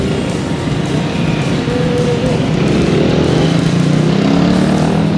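A Suzuki Gixxer 150F motorcycle engine runs steadily and loudly up close while riding in Bogotá, with a continuous drone and wind rush and no talking.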